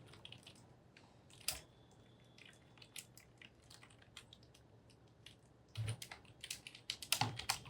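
Sparse keystrokes on a computer keyboard while code is typed, coming as a few scattered clicks and short bursts against a quiet room, strongest near the end.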